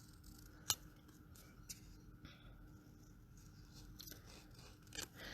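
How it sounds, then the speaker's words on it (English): Scissors fussy cutting patterned designer cardstock, heard as faint, sparse snips and soft paper crunches against a quiet room hiss. "So I'm just fussy cutting these ones out."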